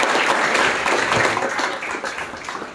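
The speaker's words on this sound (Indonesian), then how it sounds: "Mari kita tepuk tangan bagi Yesus." A church congregation claps during a Sunday service at a theology college, a crowded wash of many hands that holds steady for a few seconds and slowly thins toward the end.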